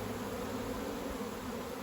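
Honey bees buzz around an open beehive during autumn hive work, a dense, steady hum of many insects close by, faint and continuous.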